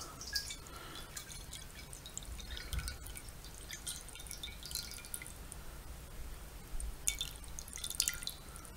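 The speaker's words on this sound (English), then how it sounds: "So we're going to just add some water to our scrying bowl." Water poured from a pitcher into a silver chalice scrying bowl, a steady soft trickling and dripping stream with small splashes, fairly quiet and close, with no voices.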